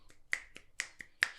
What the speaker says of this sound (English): You got to snap when you listen to something like this.